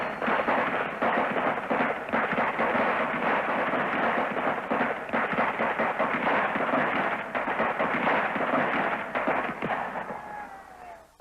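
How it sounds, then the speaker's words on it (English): Rapid volleys of live rifle fire from National Guard troops firing on students at Kent State, a dense, sustained crackle of many shots lasting over ten seconds, loud and continuous before dying away at the end. "In just over 13 seconds, an estimated 60 rounds of live ammunition are discharged."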